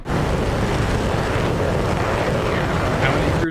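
Air defence launcher vehicles in a video game start their engines, a steady, loud, broadband rumble with a wind-like roar that holds evenly from start to finish, with no voices over it.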